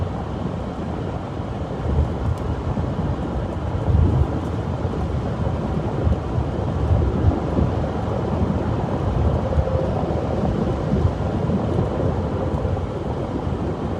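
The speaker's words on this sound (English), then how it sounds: "This line of storms is kind of falling apart." Thunderstorm rumble from a December derecho squall line in Iowa, a steady broadband roar of wind and rain that persists for the whole stretch with faint low swells, no voices present.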